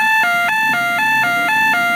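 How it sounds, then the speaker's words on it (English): Electronic alarm siren in the video game Trolley Problem Inc, a loud two-tone wail alternating in steady quarter-second steps, continuous and alone with no voices. "I can't turn off these alarms!"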